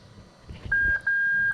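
Two steady electronic continuity-tester beeps sound as the contacts of a bridged reverse-light circuit on a Lexus IS300 engine-swap harness are touched, each tone clear and loud with a short gap between.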